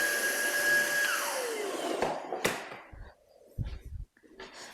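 An Ozeeco cordless vacuum cleaner running over a hardwood floor gives a steady high whine that drops in pitch, then cuts out amid a few knocks and handling bumps, close by.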